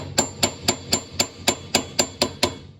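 A hammer taps a metal part on a Willys CJ-3B Jeep during AVM lockout work about ten times in a steady, even rhythm, each strike sharp and close with a brief ringing tone.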